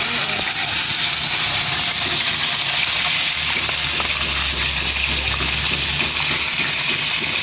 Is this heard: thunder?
no